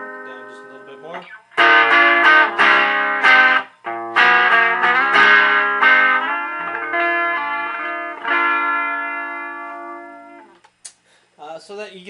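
Electric guitar on a humbucker pickup runs through a Plutonium fuzz pedal, loud distorted chords and sustained notes ringing in bursts, then a tail of decaying tones and scattered plucks near the end.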